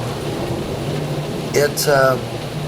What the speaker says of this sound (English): you can hear the pitter-patter of the rain on this recording in the front yard of where I lived